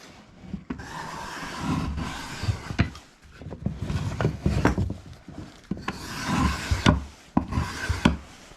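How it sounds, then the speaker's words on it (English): A card scraper rasping across a planed wooden surface in repeated swipes, each a close, dry, scratchy stroke with brief pauses between them, and no talk. "Couple of swipes with the card scraper."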